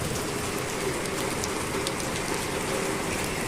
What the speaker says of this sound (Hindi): अब बारिश की बूंदें गिरने लगी है।